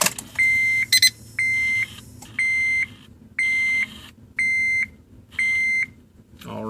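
A Prosport boost gauge beeps as a car starts up: six evenly spaced, half-second electronic tones repeat in a steady rhythm, clear and close, over a faint low engine hum, with a short click near the start.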